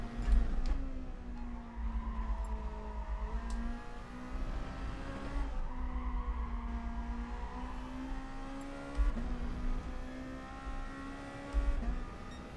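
Toyota Supra race car in Gran Turismo Sport at Lago Maggiore, the engine droning at high revs and rising and falling through gear changes, with a harsh, strained tone and sustained, loud, continuous sound.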